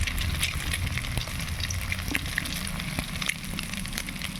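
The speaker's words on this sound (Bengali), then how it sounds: "ডিমগুলো খুব সুন্দর করে ভাজা হয়ে গেছে, এখন নামিয়ে নেব।" Eggs frying in a pan for an egg masala curry, giving a continuous close sizzle with scattered crackles and pops, steady in level with no talk.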